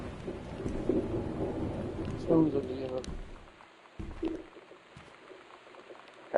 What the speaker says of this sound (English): it's raining hard in this game